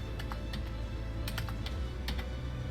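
Rapid bursts of typing on a computer keyboard, clustered keystrokes clicking close and clear over a low steady background hum, with no voices.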